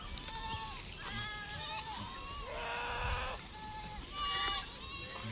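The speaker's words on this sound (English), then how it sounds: "Those are the goats in my neighborhood." Goats bleat in a neighborhood pasture during an outdoor walk, several distinct calls rising and falling across the stretch, fairly close, with a louder burst near the end and a soft background hum.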